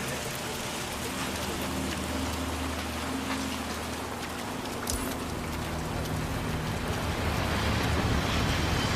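Steady rainfall in the video game Hitman 3, a continuous even hiss of drops on surfaces with a low engine-like hum beneath, no voices.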